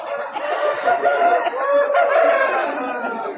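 A rooster crows loudly and close by at a busy outdoor market, with clucking fowl around it and a few people talking in the background.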